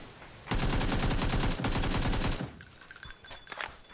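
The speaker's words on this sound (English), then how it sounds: "This is AK with no attachments, and I'm rocking it like it's nothing." An AKM assault rifle with no attachments fires in PUBG: a loud, rapid automatic burst of about two seconds, a brief pause, then more shots, followed by fainter distant gunfire and clinks.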